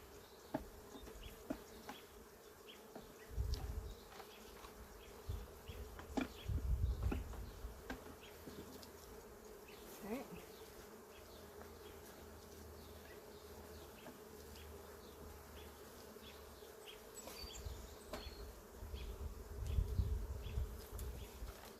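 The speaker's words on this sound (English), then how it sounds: "I have bees on the ground." Honey bees buzz steadily around an open hive with supers being added, a soft continuous drone with individual bees passing closer now and then, fairly faint overall.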